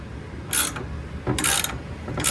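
A ratchet cranking down a rod welded to a dent on a 1969 Camaro body, heard as two loud, close bursts of rapid clicking with a third starting at the end.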